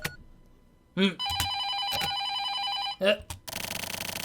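Telephone in the video game The Silver Case rings in repeated electronic trilling bursts, close and clear, with a voice breaking in between rings.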